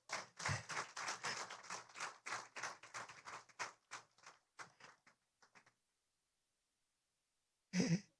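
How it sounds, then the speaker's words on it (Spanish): Audience applause at a Sunday church service, a burst of steady clapping that fades and thins out over several seconds, then silence before a brief loud knock near the end. "Vamos a recibir con un fuerte aplauso a Jim Jordan."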